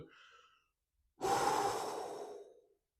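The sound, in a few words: breathing exercise, deep breaths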